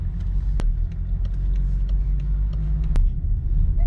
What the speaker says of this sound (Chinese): 所以有点小堵车。